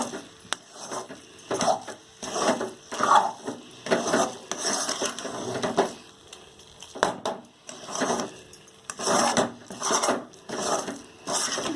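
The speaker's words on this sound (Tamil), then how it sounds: "இந்த மாதிரி கைவிடாமல் கிளறுங்க" Coconut laddu mixture of coconut and roasted gram being stirred in a pan with ghee over a low flame, giving repeated scraping and clinking strokes at a steady rhythm, close and moderately loud, with no talking.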